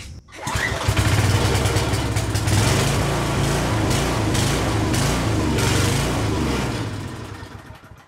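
A small MTD tiller engine with a rusty tank and a bad carburetor runs at full throttle with the choke on, a loud, steady buzzing drone with slight wavering that fades near the end.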